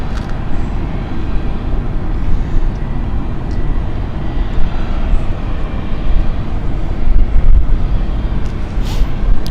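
A passenger aircraft at London City Airport gives off a steady, broadband engine roar that holds at an even level throughout, with no talking.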